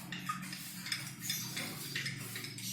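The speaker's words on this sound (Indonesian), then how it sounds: "Kita aduk rata." A spoon stirring coffee in a glass of water, faint and close, with quiet repeated clinks and scraping against the glass and no speech.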